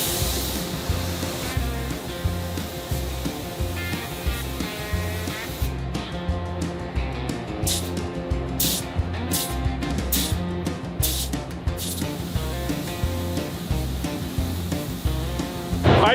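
Gray primer hisses from a spray gun onto the body of a scrap-yard Chevy truck, a continuous close spray over a rhythmic pulsing compressor or machine thump.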